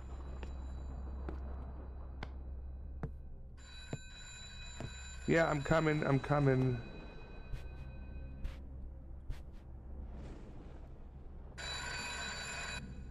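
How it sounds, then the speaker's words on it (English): A telephone rings in a short burst of bright, warbling trills near the middle, with a second ring tone toward the end, over a steady low hum and someone briefly talking. "That's the phone?"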